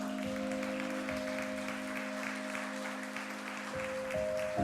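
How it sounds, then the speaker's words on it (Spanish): A church congregation applauds during a Spanish-language Sunday morning service, a steady bed of clapping hands beneath a sustained organ-like tone, continuous and moderately loud throughout with no speech. "Aplauda su nombre en esta mañana."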